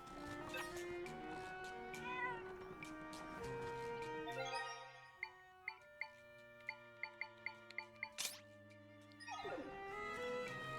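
A cat meows in The Legend of Zelda: Echoes of Wisdom video game, heard over light game music with a run of short chiming notes in the middle.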